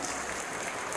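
A crowd applauds a fan at a shopping mall event featuring an actress, the clapping dense and steady throughout with no pauses or talk.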